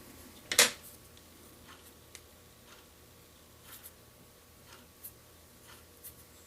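Scissors trim deer hair for a fly-tying down wing. One sharp, close snip comes early, followed by a few faint, scattered clicks against a quiet background.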